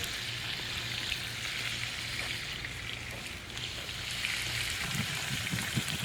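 Hamburgers cooking in butter in a pan give a continuous, even frying hiss that stays moderately loud throughout, with a few faint knocks near the end and no talking.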